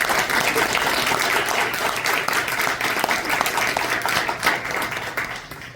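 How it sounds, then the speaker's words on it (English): Audience applause at an International Women's Day 2025 celebration honoring a township councilwoman, steady dense clapping from a crowd filling the room, loud and sustained with a slight fade at the end. "I think they deserve a clap."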